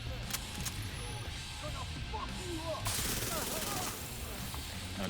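Vector gun firing in a video game, rapid bursts of automatic gunfire over a steady layer of game background noise, with clustered shots in the middle of the clip.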